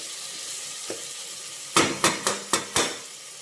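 Tomato masala for a mushroom biryani stirred in a pressure cooker: a spoon scrapes and knocks against the metal five times in quick succession over a steady, soft sizzle of frying.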